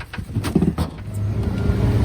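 A truck pulls away on a roadside, its engine rumble building steadily over about two seconds, loud and fairly close, with some low clunks early on.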